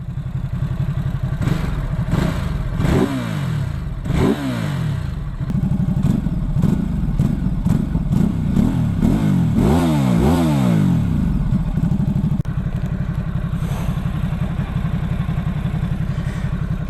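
A Ducati SuperSport S motorcycle engine runs up close and loud, with repeated throttle blips rising and falling in pitch over a steady rumbling idle, no speech.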